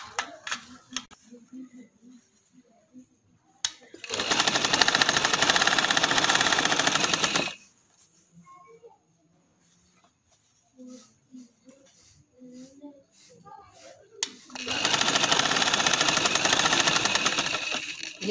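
Two long bursts of rapid, loud sewing-machine stitching on kameez fabric, each lasting a few seconds, separated by quiet handling noises and small clicks.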